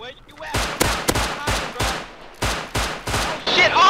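Double-barrel shotguns boom in a Rust firefight, a rapid run of about eight loud blasts spaced roughly half a second apart, each trailing off, with voices talking in between.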